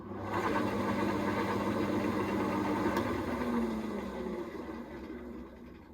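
A wood lathe with a mallee burl mounted spins up, giving a steady mechanical hum and whirr with a rising tone near the middle, close and constant for several seconds before slowly easing off.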